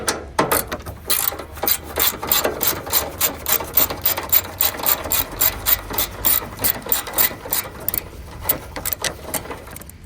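Rapid ratchet clicking in quick repeated bursts as a socket wrench spins off 10mm bolts on a Honda Accord, loud and close with steady rhythmic pawl chatter throughout, no talking.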